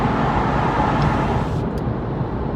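A car drives through the Fort Pitt Tunnel in Pittsburgh at night, a steady, dense roar of engine and tyre noise echoing in the enclosed space throughout.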